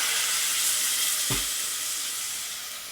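Garlic ginger paste sizzles in a pan with a steady, close hiss while being stirred, with one soft thump partway through and no voices.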